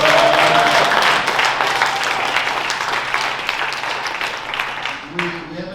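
A comedy club audience breaks into loud, sustained applause and cheering that fills the room, fading slightly as a voice begins speaking over it near the end.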